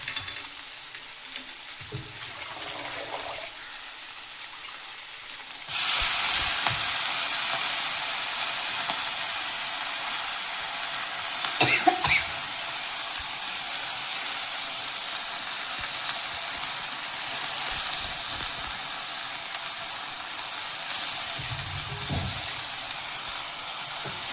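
Sessile joyweed (ponnanganni) greens sauté with softened tomatoes in a pan for a chutney; a quiet hiss swells into a steady, brighter sizzle, with occasional soft stirring knocks.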